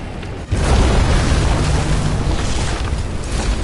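Explosion in the video game Nobody Wants to Die, set off when a cable acting as a fuse ignites a burning transformer: a sudden loud boom followed by a sustained, heavy rumbling roar that fills the whole stretch.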